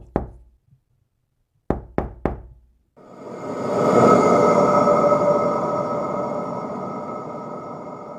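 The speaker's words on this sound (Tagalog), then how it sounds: "may katok pa rin akong naririnig sa salamin" Knocking on a glass mirror as a horror effect: a single rap, a pause, then three quick sharp knocks, followed by a rising dark ambient drone that swells and slowly fades.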